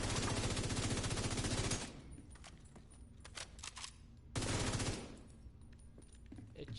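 Sustained bursts of automatic gunfire from The Division 2 video game, two long volleys separated by a stretch of scattered single shots and faint footsteps, with no talking.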